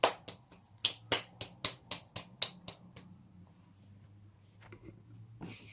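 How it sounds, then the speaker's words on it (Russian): About a dozen sharp, close hand claps come in a quick, steady rhythm, then stop, leaving near-silence with a few faint, scattered taps. "Все похлопают."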